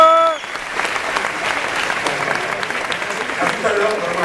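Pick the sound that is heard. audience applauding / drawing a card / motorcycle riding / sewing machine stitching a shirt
audience applauding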